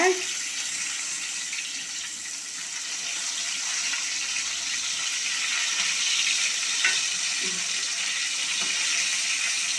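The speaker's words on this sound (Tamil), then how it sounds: "நீங்கள் மீனை சிம்லேயே வச்சு பொரிங்க" Fish fries in oil over a low flame with a soft, continuous sizzle and bubbling hiss, steady and even throughout, with a couple of faint clicks and no talking.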